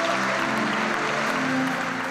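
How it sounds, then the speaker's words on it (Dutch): A crowd applauds men and women heading to the Olympic Games at a send-off event, with a dense wash of clapping that holds steady for about two seconds under a faint tonal hum. "mag ik u een groot applaus voor de mannen en vrouwen die naar de Olympische Spelen gaan."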